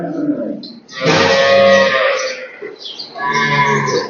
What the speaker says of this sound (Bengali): ছোট ছোট গরু